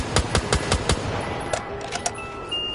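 Rapid-fire gun in a video game: five quick evenly spaced shots in a tight burst, followed by a few softer, sparser pops and a fading mechanical tail.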